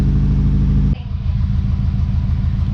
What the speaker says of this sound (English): I think I hear a little bit of an exhaust leak